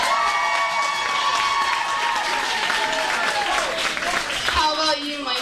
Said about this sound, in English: So when you hear the name of your school, it's okay to cheer.